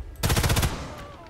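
A mounted machine gun in the video game Sniper Elite 5 fires one short, rapid burst of about eight loud shots, followed by a fading ringing tail.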